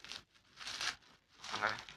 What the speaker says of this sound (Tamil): இந்த பாலை வாங்க ஓப்பன் பண்ணிடலாம்